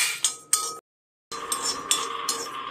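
A spoon clinks against a pan as two tablespoons of raw rice are roasted until brown, a few sharp metallic taps and scrapes close by, with a short silent gap partway through.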